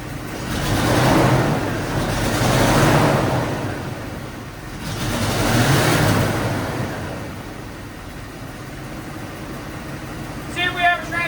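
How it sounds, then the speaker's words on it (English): An old Ford F-250 pickup engine is revved a few times, rumbling broad swells that rise and fall in slow waves, fairly loud and close, with a voice briefly heard near the end. "Do I dare rev it?"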